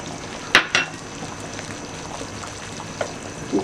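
A spoon clinks and scrapes against a pot of beef nihari a couple of times, then quieter stirring over a faint bubbling simmer.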